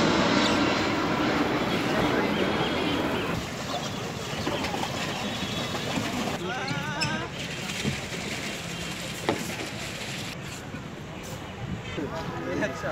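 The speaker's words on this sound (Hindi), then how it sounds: "ये देखिए हवाई जहाज अपने गंतव्य स्थान के लिए प्रस्थान करते हुए कुछ ही मिनटों में पटना हवाई अड्डे पर उतरने जा रहा है।" An airplane passes overhead near Patna airport, heard as a broad, loud, steady roar that slowly fades, with someone talking over it.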